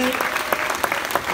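An audience applauds handball players at a club's official season presentation, a steady burst of hand claps with a few sharper close claps, carrying on briefly under the crowd.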